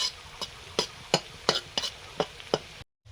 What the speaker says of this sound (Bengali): ফোড়ন দিয়ে ভেজে নেব।